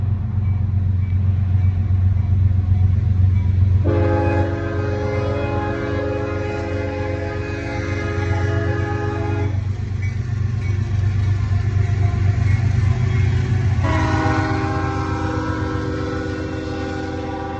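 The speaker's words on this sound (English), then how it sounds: "I'm gonna wait for this train to pass, so I'll be right back. They're probably gonna honk the horn." A train passes with a loud, low rumble of wheels and cars, and its horn sounds twice in long sustained blasts, the second after a short pause, over the continuous roar.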